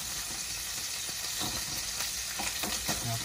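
Meat sizzles and fries steadily in a pan over medium heat as its fat renders out, with a little stirring and faint crackles, and no talk.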